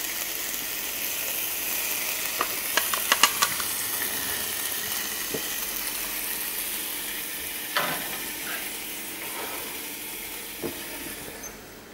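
A red meat roast sizzles in a 200-degree oven, a soft steady crackle and hiss with scattered sharp pops and occasional clicks, fairly close and quiet, fading slightly toward the end.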